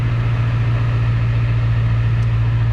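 A 2002 Ford 7.3 Powerstroke diesel truck engine idles steadily after startup, a loud, constant low rumble close by with no talk.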